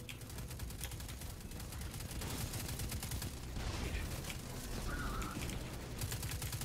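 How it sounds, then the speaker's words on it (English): Distant, muffled automatic gunfire crackles steadily in the sci-fi shooter Destiny 2, with rapid repeated shots that stay faint throughout. "Okay, we'll shoot them."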